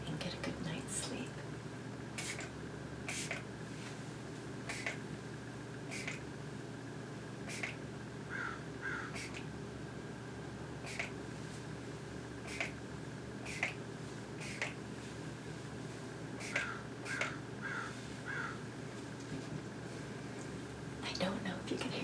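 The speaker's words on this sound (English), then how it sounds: "I don't know if you can hear the birds outside," Birds squawking outside, scattered short calls in bursts that come through faintly behind steady hair brushing and a whispering voice.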